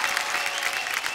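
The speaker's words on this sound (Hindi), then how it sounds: "एक बार जोरदार ताली हमारी जोड़ी के लिए" Loud, steady applause from a studio audience at a couples' funny-games show, filling the whole short moment with dense clapping and no talk over it.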